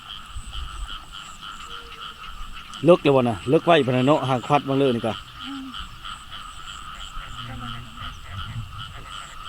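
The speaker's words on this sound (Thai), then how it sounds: "เสียงกบฮ้องเชี่ยวๆอยู่ทุกคน" Frogs croak in a quick pulsing burst during a fresh rainfall in rural Thailand, with a steady chorus of insects or frogs droning behind; people talk before and over the calls.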